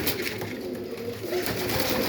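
Pigeons coo steadily inside a dovecote, soft repeated low cooing from several birds close by, blended into a constant murmur of wing rustles and roost noise.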